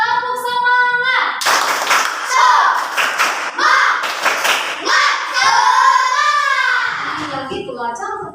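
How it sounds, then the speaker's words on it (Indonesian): A sixth-grade primary school class does a rhythmic spirit clap together in the classroom, bursts of hand claps in a patterned sequence mixed with children's voices and an adult speaking. "Tepuk semangat dulu kita yuk"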